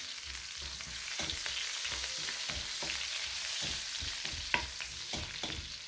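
Onions frying and being stirred in a pan, a continuous close sizzle with repeated scraping strokes of the spoon throughout, no voices.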